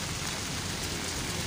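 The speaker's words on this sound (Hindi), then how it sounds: "बहुत तेज़ बारिश है यहाँ पर नाज़रीन टेक्सला में, आज सुबह 3 बजे से बारिश हो रही है, अच्छी खासी तेज़ बारिश।" Heavy rain pours down in Taxila, a dense, steady hiss filling the whole moment without letup.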